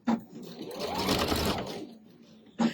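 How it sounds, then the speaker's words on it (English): A sewing machine stitching light fabric, a steady mechanical whirr for about a second and a half, near and clear, between brief bits of someone talking at the start and end. "Yes, we're stitching now."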